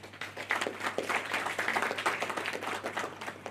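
A crowd claps steadily for several seconds at the opening ceremony of a healthcare management seminar, a dense, lively round of applause with no voices standing out.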